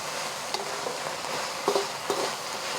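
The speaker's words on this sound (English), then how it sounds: "Now we're gonna mix everything back together." Minced pork and garlic stirred and fried in a pan of hot oil, a steady soft sizzle with a few brief scraping stirs of a utensil against the pan, fairly quiet and close with no voices.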